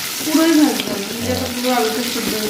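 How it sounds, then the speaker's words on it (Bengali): Potatoes frying in a pan after fish, lightly salted and seasoned with turmeric, in a Bengali home kitchen, giving a steady close hiss and sizzle with a faint watery crackle throughout. "মাছ ভাজা হয়ে যাওয়ার পরে একটু আলু ভাজা শুরু হলে"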